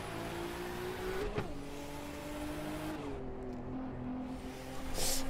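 Race cars in an Assetto Corsa multiplayer street race, including a Mitsubishi and a Skyline, drone steadily with engine tones that rise and shift through gear changes, with no talk.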